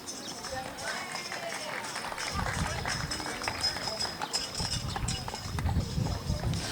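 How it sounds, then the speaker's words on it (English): Horse and carriage moving down a street in a 2013 parade, hooves clopping in an irregular rhythm that grows louder and closer, with crowd noise and voices around it. "This is a horse and carriage, and it's moving right down the street."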